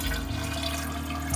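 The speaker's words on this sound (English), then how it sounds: "Water is actively flowing out of our tube." Water gurgles and trickles as a pump pushes it through a tube in an ice-cooled PC during a wet test run, a soft continuous flow over a low steady motor hum.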